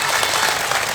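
A crowd at an Islamic religious gathering applauds, with a minister clapping along: a brief, dense burst of many hands clapping, bright and continuous, without speech on top.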